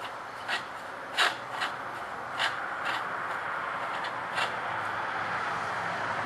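Debris sumps on a wood gas generator are being unscrewed by hand, giving faint, scattered rubbing and scraping sounds over a low background hiss.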